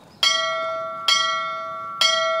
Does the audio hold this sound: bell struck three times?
yes